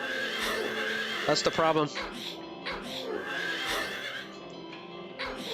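A horse whinnies in the survival horror game Silent Hill 3, a brief rising neigh set amid game music and ambience, with someone talking over it.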